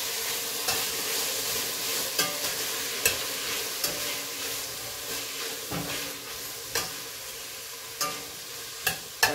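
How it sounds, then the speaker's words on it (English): Tomato and vegetables frying in a pan, a steady close sizzle with periodic stirring clatters and scrapes throughout, no talking. "And we gotta allow that to fry up a little more."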